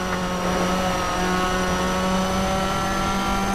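A Japanese car's engine in the racing video game Toca Race Driver 3 on PS2 drones steadily with a constant mid-pitched hum, sustained and fairly loud throughout, like a car cruising at speed.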